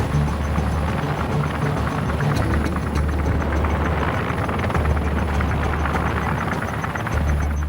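A rescue helicopter flies in heavy cloud cover, its engine and rotor giving a steady, loud drone with a low, rhythmic thump that carries on throughout without a break.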